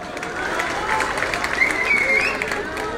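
Crowd clapping at a political rally, continuous dense applause and cheering from a large audience, fairly loud with voices mixed in.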